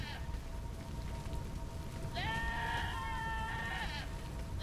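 A sheep bleats in a video game, one drawn-out bleat partway through over a soft, constant rain-like background hiss, fairly quiet and with no talk.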